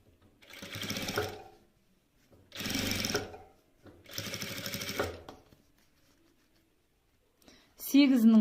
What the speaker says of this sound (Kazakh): Яғни екіге бүктеп алып, үстінен бастырып, прямой строчкада осылай тігіп алыңыздар.